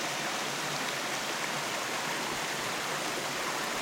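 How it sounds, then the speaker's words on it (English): The Chattooga River streams past in a steady, dense rush of flowing water, close and unbroken, with no voices over it. "We're along the Chattooga River."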